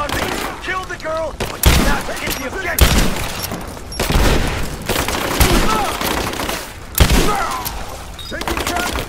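Gunfire in the video game Rise of the Tomb Raider, sustained loud bursts of automatic fire with sharp single shots and booms throughout, mixed with game voices and battle noise.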